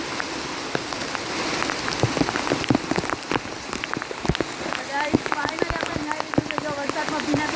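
Heavy monsoon rain pours down close by, a dense, loud patter with countless sharp drops striking hard surfaces, steady throughout the stretch.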